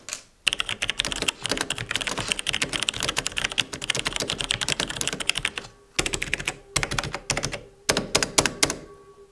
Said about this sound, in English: here's a quick sound test of that as well